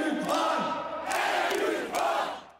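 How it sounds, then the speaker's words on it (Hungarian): Dense crowd of tens of thousands at an anti-government demonstration, a continuous roar of many voices with swelling cheers and shouts rising in waves, loud and close, with no single speaker standing out. "Több tízezres tömeg vett részt a kormányellenes megmozdulás második felvonásán."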